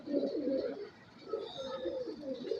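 A pigeon coos softly in a few low, rolling phrases with a short pause between them, quiet and fairly close, with no talk over it.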